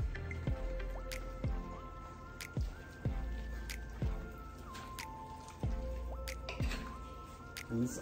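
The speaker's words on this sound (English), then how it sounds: "Now I'm gonna stir everything together." Collard greens with chopped onion, bell pepper and red pepper being stirred in a pot, giving repeated wet squishing clicks and drips roughly every half second, close and fairly loud with no talk.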